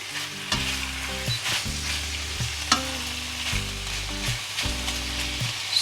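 Onions fry in a pan for a one-pan chicken sauce, a steady close sizzle with repeated stirring knocks and scrapes of a utensil against the pan, with no speech.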